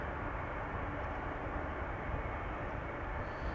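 A Croatia Airlines airliner lines up at Amsterdam Schiphol, its jet engines producing a steady, broad roar that holds at an even level throughout, heard from some distance.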